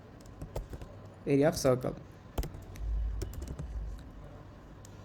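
Clicky typing on a computer keyboard while Java code is entered during a programming lecture, scattered keystrokes close to the mic with someone speaking briefly over them.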